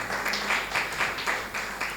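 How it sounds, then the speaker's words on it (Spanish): Applause from a church congregation at an evangelical event in Brussels, loud and steady with a pulsing rhythm of many hands clapping together. "Dásela a Dios ese fuerte aplauso."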